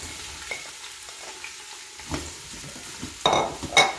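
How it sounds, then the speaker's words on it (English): Carrots, celery and onions sautéing in ghee in an Instant Pot, a soft close sizzle broken by stirring scrapes and a couple of bright metallic clinks of a spoon against the pot near the end. "sweat those vegetables. So good 5 minutes of sauteing till they begin to release their flavors"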